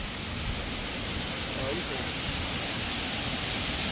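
Bugsukan Falls in Misibis, Tiwi, Albay, a waterfall giving a steady, dense broadband rush of falling water that holds at an even level throughout.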